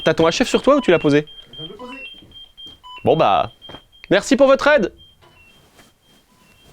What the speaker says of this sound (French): ça c'est le bruit de son alarme.